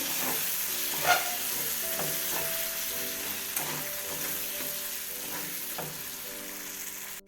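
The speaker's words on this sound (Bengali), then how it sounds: "চিকেনটা মশলা তখন কষানো হচ্ছে" Chicken with spices stir-fried in a pan, a constant sizzle broken by repeated rhythmic scrapes and clinks of a spatula against the metal, close and without talking.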